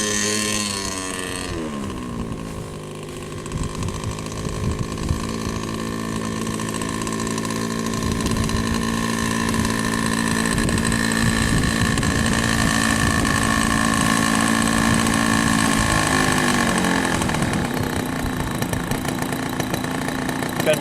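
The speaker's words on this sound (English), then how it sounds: "Got a nice idle, huh?" A small engine, apparently a model aircraft motor just after a landing, settles into a steady idle with a constant droning hum and harmonic whine, loud and close, continuing without a break and with no talk.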